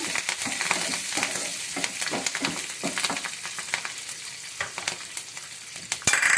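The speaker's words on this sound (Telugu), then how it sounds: "కరివేపాకు కొంచెం చిట్పట్ అనే తర్వాత" Curry leaves spluttering in hot oil in a pan with taro and potato pieces, a steady close sizzle studded with sharp crackling pops and spatters throughout, ending in a louder burst.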